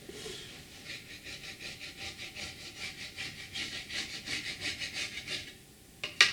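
Steady back-and-forth rasping strokes of sanding on the waxed bearing edge of a Gretsch drum shell, about two per second, close and moderately quiet, ending with a sharp knock.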